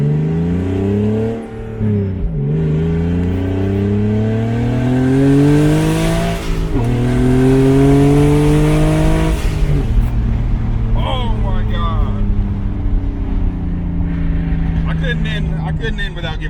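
A turbocharged BMW E36 pulls hard through several gears, the engine note climbing in rising sweeps with brief dips at each shift, loud and close from inside the car, with an excited voice exclaiming over it.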